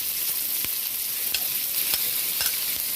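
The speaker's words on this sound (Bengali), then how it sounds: "চিংড়ি মাছটা হালকা করে ভেজে নেব।" Shrimp and onion frying in a pan make a constant close sizzle, with a few sharp scraping taps of a spatula stirring at irregular intervals.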